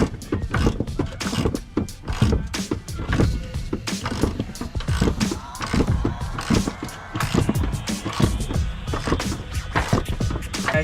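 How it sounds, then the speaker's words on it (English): A ratchet wrench clicks in quick repeated bursts while installing the upper control arm on a lowered 2011 GMC truck, with metallic clanks and knocks between strokes, close by. "I am installing the top control arm right now"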